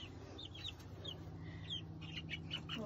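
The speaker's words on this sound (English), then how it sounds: "That one's a rooster, so that's Ray." Several backyard chickens, a rooster among them, cluck and chirp in short overlapping calls over a steady low hum, close by and without any talk.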